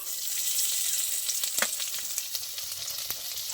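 Whole cumin seeds and two bay leaves hit hot oil for a Bengali katla fish head and winter vegetable dish, a bright, steady frying hiss close by with occasional sharp crackles and a light stir.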